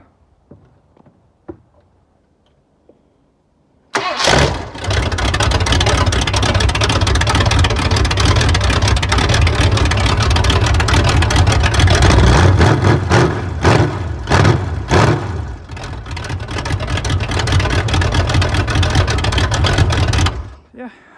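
A carbureted engine with a freshly sealed exhaust, running rich, cranks and catches after a few seconds of near silence, then roars loud and rough with uneven revs for about sixteen seconds before cutting off.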